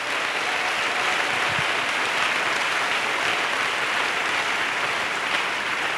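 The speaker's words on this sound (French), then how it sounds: "Let us clap for Jesus." A church congregation claps for Jesus during a service: dense, sustained applause from a large crowd, loud and steady throughout, with no voices standing out.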